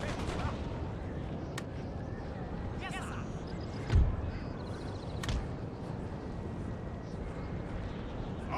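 Artillery fire in a Napoleonic-era battle from the strategy game Napoleon: Total War, with dull distant booms and scattered gunfire under a constant battlefield rumble; one heavier thump stands out midway.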